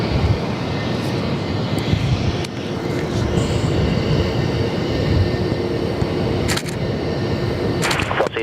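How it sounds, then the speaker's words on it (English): Jet airliner engines roar steadily during a takeoff roll at Perth Airport, loud and continuous with a broad rushing drone and a few brief clicks and rattles on top. "All right, they're clear for takeoff down at for an intersection departure there."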